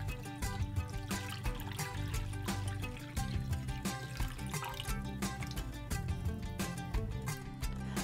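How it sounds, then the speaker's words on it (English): Tap water pours into a bowl holding dry pink, purple and clear Orbeez beads, a steady splashing trickle with dripping, close by and continuous with a brief dip midway, under light background music. "fill the bowl with some water."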